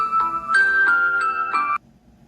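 Mobile phone ringtone going off indoors, a loud, bright chiming melody of repeated electronic tones that plays for under two seconds and then stops abruptly.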